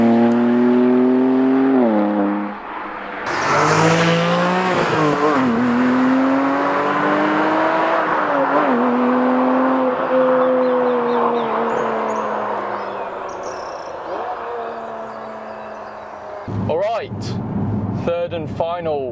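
A Porsche GT4 pulls out of a junction with its engine revving up through the gears, rising and falling in pitch, loud and close inside the cabin, while someone talks over it.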